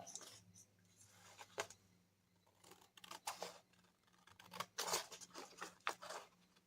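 Scissors snip through a brown paper bag in short, separate crisp cuts, close and fairly quiet, with pauses between clusters of snips and a low steady hum underneath.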